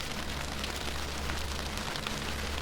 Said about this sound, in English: You hear rain?